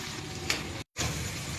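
Potato and pointed gourd drop into hot oil and fried spice paste, a close, steady sizzle that cuts out briefly before resuming, with no talking.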